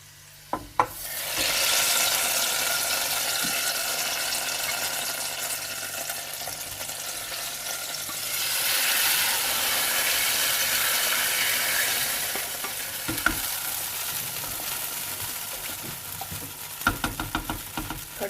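Onion and cumin tadka for pakora kadhi sizzling and frying loudly in a pan, a steady hiss that swells and eases, with a few stirring clinks near the end.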